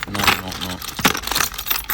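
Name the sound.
jangling bunch of old car keys for Rover P6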